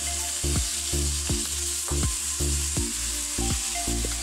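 Pork and onions sizzle in a pan under a steady bright hiss, with regular scraping stirs about every half second, close up and with no talk.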